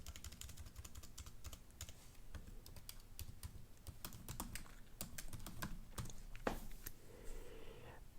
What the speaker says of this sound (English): I'm going to enter my SSID and password here